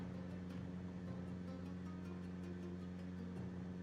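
A steady droning car engine in Project Zomboid hums at a constant low pitch throughout, smooth and unbroken with faint periodic ticks, the car seemingly faulty.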